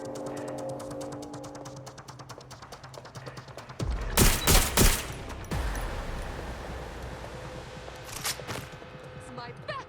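Watch Dogs: Legion gunfire: a loud burst of several sharp shots in quick succession midway, over a backdrop of rapid, clicking game noise, with voices talking around it.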